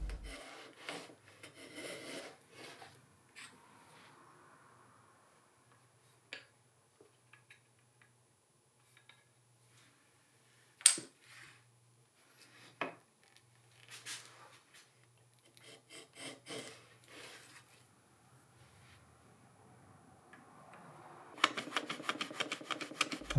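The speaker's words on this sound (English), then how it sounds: "I can then use the shooting board and the plane again to just true it up really nicely" A hand plane trims ebony on a shooting board in a quiet workshop, soft scattered strokes and rasping scrapes at first, then a rapid run of crisp strokes at the end.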